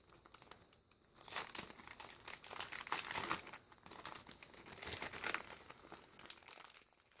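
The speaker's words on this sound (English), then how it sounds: "I guess I'm going to have to cut the sack open" Plastic packaging of PBO acrylic markers being cut open, heard as bursts of crinkling and tearing plastic with short pauses between them, close and moderately loud, with no voices.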